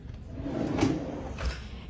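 A drawer on an epoxy tumbler cart slides open or shut with a short rumbling scrape and a soft thump, close by and moderately loud.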